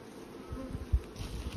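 Honeybees from hives full of nectar, with thirds being added, buzz as a soft, steady drone close by, with a few low bumps and thuds and no voices.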